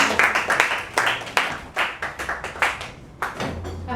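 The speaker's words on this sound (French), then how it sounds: "et Kasia, s'il vous plaît, on l'applaudit." Applause and claps from an audience at an open-mic stage night, with sharp scattered hand claps in an uneven rhythm, fairly close and moderately loud, trailing off toward the end.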